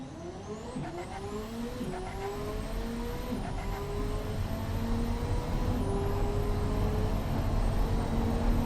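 A 2015 supercar in the video game Automation accelerates down a quarter mile. The engine revs rise and climb through gear changes, loud and building steadily, with a hint of tire squeal and no talk.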